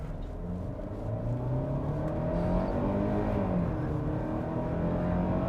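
A 2023 Kia Sportage X Pro with all-wheel drive pulls away from a stop, its engine note rising steadily as it accelerates, heard from inside the cabin with a continuous road and engine drone and no talk.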